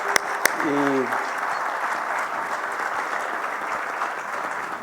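A crowd at a conference session on good agricultural practices applauds, steady clapping throughout, with a brief tonal sound near the start.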